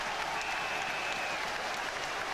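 Rugby crowd applauding a try, a steady wash of clapping from a large stadium audience, continuous and moderately loud for the whole moment.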